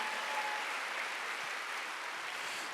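Church congregation bursting into steady, dense applause during a Sunday worship service, a continuous wash of many hands clapping throughout with no voices on top.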